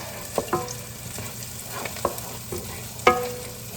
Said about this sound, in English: Stir this up a little bit more.